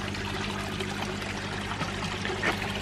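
Water rushes steadily out of a garden pond filter return, a loud, continuous gushing pour into the pond with no break.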